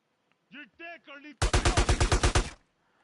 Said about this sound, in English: that dude just did big damage with that machine gun